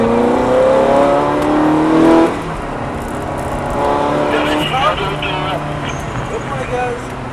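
A Ferrari F430 powers out of a corner at the Lédenon circuit, its engine note rising loud and close with tyre noise before easing into a steadier drone.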